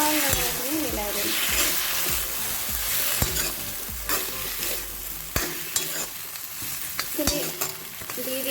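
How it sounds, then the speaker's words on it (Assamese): Broad beans being stirred and fried in a pan, a continuous sizzle broken by scraping stirs and occasional clinks of the spatula against the metal, close and fairly loud. "ইয়াত মই দি দিম আমাৰ উৰহীখিনি, আৰু ভালদৰে এইখিনি মিলাই দিম।"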